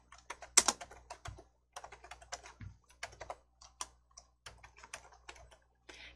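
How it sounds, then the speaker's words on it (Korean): Computer keys clicking in uneven bursts, close and fairly quiet, as the Windows key and period are pressed, with pauses between the taps. "키보드에 윈도우 키 누르시고 마침표"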